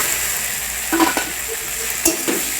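Boiled potatoes for papad aloo dum tumble into a hot pan of spices, setting off a loud close sizzle with two sharp clattering bursts from stirring and metal scraping, and no voices.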